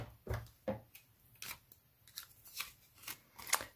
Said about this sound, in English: we do need to fussy cut out our boots